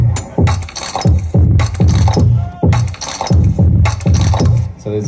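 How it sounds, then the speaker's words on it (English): Loud, close underwater crunching and grinding bursts repeat in a fast, regular rhythm as a buck-toothed parrotfish chews coral reef with its beak. "that's the sound of a buck-toothed parrotfish going around chewing reef with its beak"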